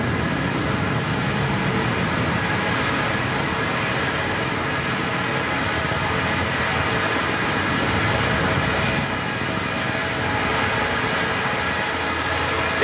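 Antares 230+ rocket engines burning during launch of a Cygnus cargo craft, a steady, distant broadband roar that holds constant throughout with slight surges, no voices heard.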